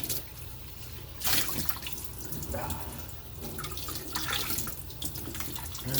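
Tap water runs steadily into a kitchen sink while dishes are washed by hand, with clinks and splashes of plates and cutlery rising and falling over the continuous flow, fairly close.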